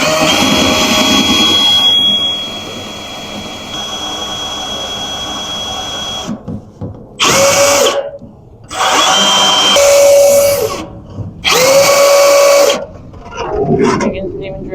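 A power drill whines in several bursts while installing a transfer pump on a truck, starting, stopping and revving again, loud and close with brief gaps between runs.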